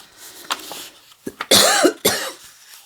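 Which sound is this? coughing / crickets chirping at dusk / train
coughing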